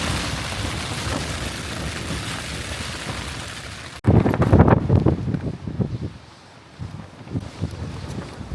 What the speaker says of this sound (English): It is still very windy and it's brightened up a little bit